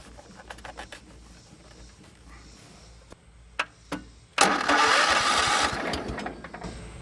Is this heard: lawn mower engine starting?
yes